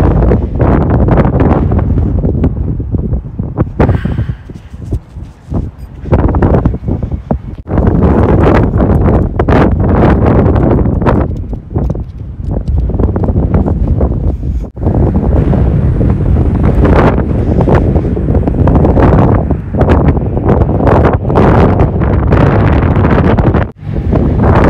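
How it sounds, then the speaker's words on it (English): Strong outdoor wind buffets the microphone in loud, roaring gusts, with brief lulls between blasts and no speech throughout. "It's really windy today."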